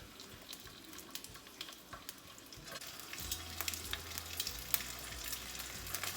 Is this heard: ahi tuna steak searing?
yes